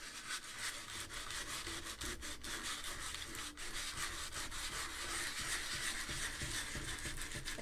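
Hand sanding of wood with sandpaper gives a continuous, close, raspy rubbing in a steady back-and-forth rhythm, alone and fairly faint throughout.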